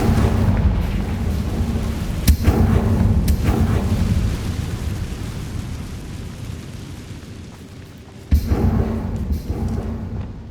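A Confringo fire spell explodes in a Harry Potter video game, a loud rumbling blast with a sharp crack near the start and another burst later, booming low over a continuous roar.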